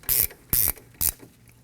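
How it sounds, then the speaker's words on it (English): A ratchet runs a slide pin bolt into the rear brake caliper of a Nissan Murano, giving three quick, close bursts of rapid clicking separated by short pauses. "I'm going to go ahead and run our slide pin bolt in all the way."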